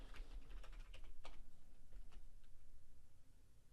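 A password is typed on a computer keyboard as a quick run of soft, close key clicks, irregular in rhythm and fairly faint, with no talking.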